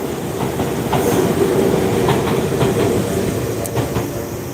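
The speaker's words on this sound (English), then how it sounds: "the train passes before we can cross here" A small local train on Tokyo's Oimachi Line rolls past close by in the evening, its wheels clacking rhythmically over the rails with a steady rumble, no voices present.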